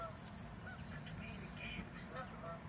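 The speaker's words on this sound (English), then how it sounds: "All the geese flying over." Geese honk faintly and intermittently as a flock flies overhead at a touring park on a sunny evening, the calls distant and scattered over quiet outdoor background.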